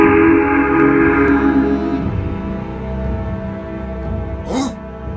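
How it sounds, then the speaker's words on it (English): A deep, sustained steam engine whistle blows low and loud, fading gradually over several seconds, followed by a short higher chirp. "followed seconds later by a deep whistle he had never heard before"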